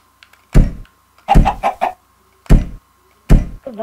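A chicken in the video game Minecraft clucks in short loud bursts, four or five separate clucks and a quick stuttered run, close and clear against near silence, with no talking.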